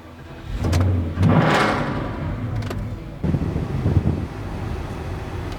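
Porsche Cayenne driving on a road at slow speed, a low engine and tire rumble with wind buffeting and a few bumps and knocks, no talking.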